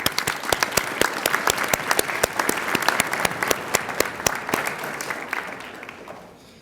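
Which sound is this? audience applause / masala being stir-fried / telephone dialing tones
audience applause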